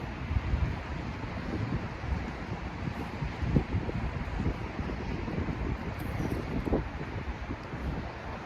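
Steady outdoor wind buffeting the microphone at an outdoor calisthenics spot with a dip bar, a continuous low rumbling roar with gusty swells, fairly loud and close, with no voices.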